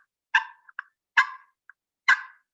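A wild turkey hen gives three loud, sharp clucks spaced about a second apart, each a short single note with a few faint softer chirps between.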